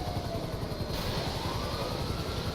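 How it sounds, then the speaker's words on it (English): A steady helicopter rotor drone from a firefighting scene in Grand Theft Auto, a low rumbling throb, continuous and moderately distant, with no voices. "So I can hear the helicopter."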